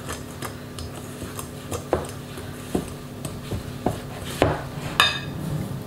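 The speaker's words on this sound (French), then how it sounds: "je prends mon fouet et on ajoute 100 g de farine" Metal whisk stirring flour into a fromage blanc cheese tart batter in a bowl, a steady run of close scraping and light clinks with sharper taps against the bowl rim every second or so, no talking.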